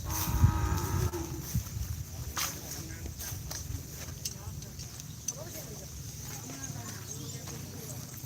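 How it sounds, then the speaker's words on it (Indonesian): Cattle mooing at an open field in Bangkalan where bulls are being readied for a training session, heard amid steady outdoor crowd noise and people talking, with faint scattered hoof clops. "Kayaknya ada sapi yang mau dilepas ini."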